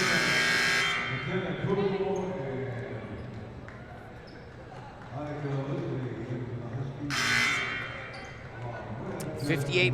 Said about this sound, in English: we have a multiple barrage of buzzers